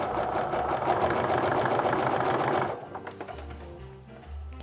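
A sewing machine stitches bias tape onto a canvas apron with a loud, even whir for a few seconds, then stops, leaving faint handling noises.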